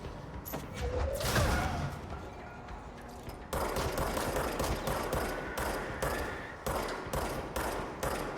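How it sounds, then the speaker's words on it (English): Gunfire in the video game Control, rapid bursts of shots at close range, with a heavy impact early on, then a steady run of repeated firing that breaks into separate short volleys. "I'm shooting him."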